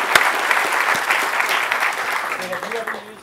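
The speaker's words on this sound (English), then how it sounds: "let's give a round of applause to Benny" A small group applauds Benny after he finishes playing, a lively burst of clapping that fades toward the end as a voice starts talking underneath.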